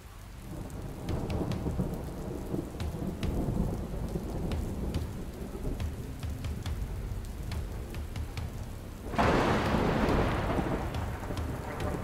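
A heavy thunderstorm with steady rain and rolling thunder, at sea where divers are heading out to the wreck of HMS Repulse; the rain hisses continuously and loud thunder rumbles, with a sharp, louder burst of downpour near the end.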